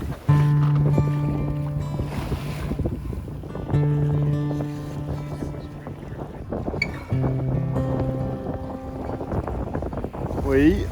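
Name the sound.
wind blowing while sailing a yacht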